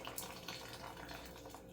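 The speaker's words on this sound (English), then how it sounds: "Let that water drip off." Boiling water dripping and trickling off freshly cooked food lifted out of the pot, a steady close wet patter with no voices.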